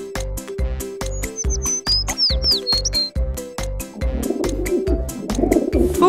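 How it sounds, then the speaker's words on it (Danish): Pigeon or dove cooing, a soft repeated call heard over a steady rhythmic beat of children's learning music, with a few high whistling chirps in the middle. "Fugl."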